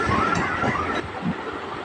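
A passenger train on a circular rail line runs along the tracks, a steady rumbling roar with rattling and wind noise, close and continuous for a moment without speech.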